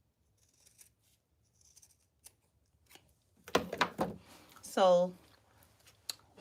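Scissors snip through a wig, a few short crisp cuts scattered across the clip, close and fairly quiet, with someone talking briefly in between.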